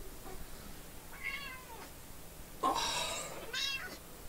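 A pet cat named Mimi gives three short meows, with the last two louder and closer together, against a quiet room background.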